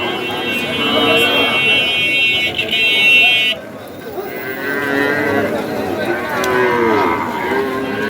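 Cattle moo loudly and repeatedly amid a noisy crowd at the Ambari livestock market in Dinajpur, with people talking throughout and a steady electronic tone early on.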